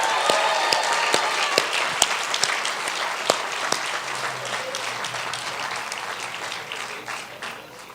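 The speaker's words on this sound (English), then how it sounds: "let's give them another round of applause." Audience applause at a transit division grand opening ceremony, a steady crowd of clapping hands with a few sharp nearby claps, slowly tapering over eight seconds.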